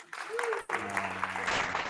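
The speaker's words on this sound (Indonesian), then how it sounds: "Enggak apa-apa, silakan tepuk tangan lagi." Brief applause from a classroom of students, clapping in a short burst that overlaps with a voice speaking nearby.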